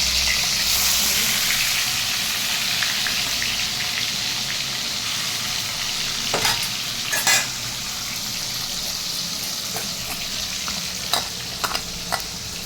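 Fish frying in hot oil on a gas stove gives a steady, loud broadband sizzle with occasional scraping stirs and utensil clinks near the end, with no talking.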